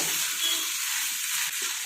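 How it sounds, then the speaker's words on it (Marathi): Mango rice being turned in a pan over a low flame with its tempering, a continuous close frying hiss with soft scraping from the stirring and no voices. "असा भात सर्व हलवून घ्यायचा"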